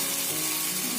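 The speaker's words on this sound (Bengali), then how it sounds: "এবার দিয়ে দেবো বেটে রাখা মশলা। দিয়ে দেবো হলুদ গুঁড়ো, তারপরে দিয়ে দেবো লঙ্কা গুঁড়ো" Spice paste with turmeric, chili and cumin sizzling in hot oil, a dense continuous crackle heard close and alone for a brief moment.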